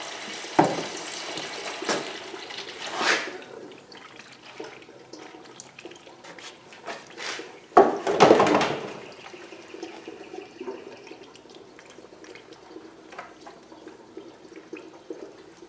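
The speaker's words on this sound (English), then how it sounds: "That's coolant. Oh boy, I'm gonna overflow my can here." Coolant pours out of an LS-swapped Mazda B2200 engine into a catch can, a continuous splashing, gurgling liquid stream with a couple of louder gushes, heard alone at close range.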